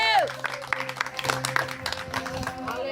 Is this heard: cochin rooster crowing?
no